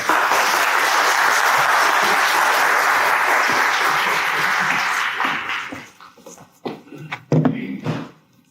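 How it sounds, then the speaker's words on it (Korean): A church congregation gives loud, dense applause to welcome a pastor to the pulpit, the sustained clapping filling the room for about five seconds before thinning into a few scattered claps and faint movement. "우리 나오실 때 큰 박수로 환영하겠습니다"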